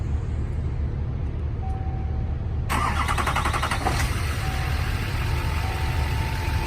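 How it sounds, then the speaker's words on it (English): A 2009 GMC 5500 4x4 bucket truck with a 6.6L Duramax turbo diesel cranks and starts over steady low engine rumble, then settles into a loud, close idle with no talking. "start the truck and we'll listen to it run."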